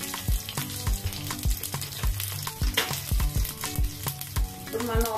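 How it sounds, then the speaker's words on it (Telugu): Cumin, mustard seeds and green chillies sizzle loudly in hot oil in a pan, with a steady crackling fry broken by frequent sharp pops and spits; no one speaks. "ప్యాన్ లో జీలకర్ర ఆవాలు వేస్తున్నా, పచ్చిమిర్చి"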